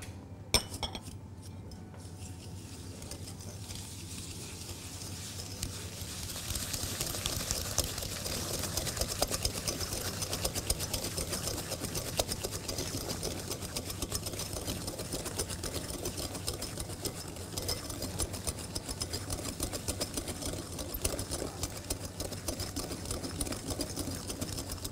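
An electric hand mixer beats sugar and eggs in a bowl for a strawberry roulade, a steady buzzing whir with occasional clinks of beaters against the bowl, continuous and fairly close.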